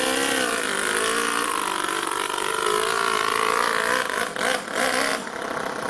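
A two-cylinder four-stroke engine in an RC car revs up loudly and close, its buzzing drone climbing in pitch as it accelerates, then dipping briefly near the end, with no talking.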